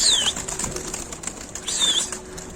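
Arab pigeons being chased into flight give two brisk bursts of wing flapping, close and clear, with a light whirring flutter between them.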